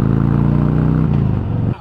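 Drift vehicle engine held at full throttle at a motorcycle drift cross event, a loud steady droning rev with strong harmonics that dips slightly near the end.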